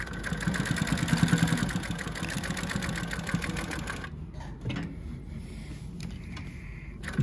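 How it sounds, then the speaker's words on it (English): A JUKI LH-3588A lockstitch industrial sewing machine stitches through four layers of denim in a fast, steady mechanical rattle for about four seconds, then stops, leaving a few quiet clicks and handling sounds. "this is the most common sewing machine used for denim jeans, for the back pocket"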